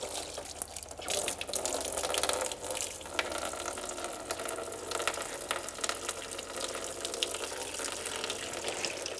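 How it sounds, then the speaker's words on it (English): Coolant draining from a motorcycle radiator during a relocation kit install, a steady close gushing and splashing of liquid running without pause, fairly loud and continuous with no speech. "The whole radiator is gonna drain right up down."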